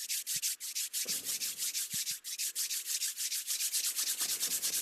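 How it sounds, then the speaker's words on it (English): Hands rub briskly together to warm them, a close, steady swishing friction in quick repeated strokes, soft but continuous with a few small bumps, and no voices. "I like to start with a little body mind centering, which I do by rubbing my hands till they get a little warm."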